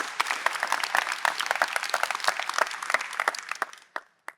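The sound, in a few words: audience applause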